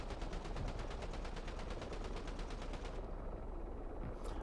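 A tank's 7.62 machine gun in DCS World fires a rapid, steady burst for about three seconds, then stops and leaves a dull engine rumble.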